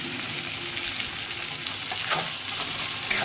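A whole tomato and green chillies sizzling in hot oil in a pan, a steady loud crackling fry that runs throughout with no pauses.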